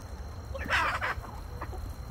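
A chicken clucks close by in a short burst of several quick calls, then a few softer clucks trail off over a low background murmur.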